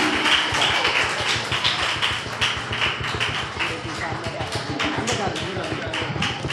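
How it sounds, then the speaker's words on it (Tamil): An audience claps enthusiastically at a Christmas celebration held by a church ministry. The applause is dense, loud and rhythmic and carries on steadily across the whole stretch. "உற்சாகமாக கரங்களை தட்டுங்க"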